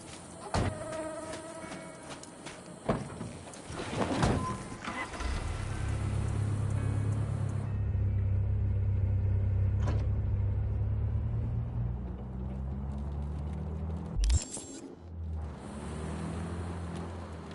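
Car engine in Cyberpunk 2077 on PS5, opening with clunks and door sounds, then a steady low droning hum of the vehicle driving, with a sharp knock partway through before the engine continues.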